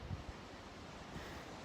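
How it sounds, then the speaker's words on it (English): Wind gusting across a beach at a state park, a steady broadband rush with a few low buffeting bumps against the microphone, fairly faint and continuous. "And it's windy."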